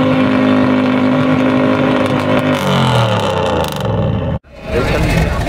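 A Chevrolet Camaro at a 2014 US car meet in Großolbersdorf roars close by, its engine revving and rising in pitch before cutting out abruptly and firing up again. Voices can be heard alongside.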